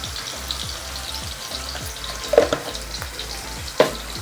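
Cumin seeds sizzle in hot oil for a tomato egg curry, a soft, steady close-up crackle with a few brighter pops and a faint low rhythmic hum underneath, no voices.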